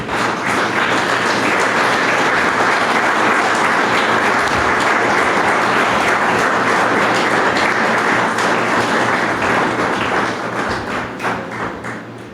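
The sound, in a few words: congregation applause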